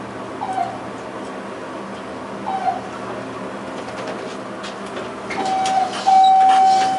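Arrival chime of a fast Schindler Haughton traction elevator in a university hospital parking garage, a clear sustained electronic tone sounding near the end over a steady hum of machinery and faint earlier chirps.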